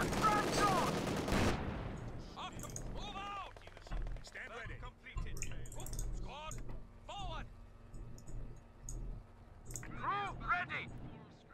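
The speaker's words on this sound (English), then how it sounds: "Actually, shoot him in the head." Gunfire from Company of Heroes 2 cracks out in scattered bursts amid in-game shouts and radio voices, with a loud blast at the start fading into intermittent shots under a player's running commentary.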